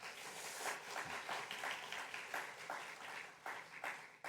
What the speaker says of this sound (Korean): 우리 목사님 환영의 박수 한번 하겠습니다.